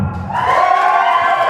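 A wrestling crowd cheers Mustafa Khan's return with a loud, swelling roar of many voices that holds steady after a brief moment of voice at the start.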